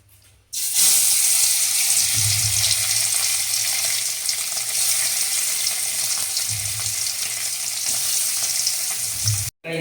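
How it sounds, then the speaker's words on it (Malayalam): Fish frying in coconut oil in a pan while being stirred gives a loud, steady, close sizzle with a faint low bubbling underneath. It runs for nearly ten seconds with no voices. "മീൻ പൊരിക്കുമ്പോൾ ഇളക്കുന്നു."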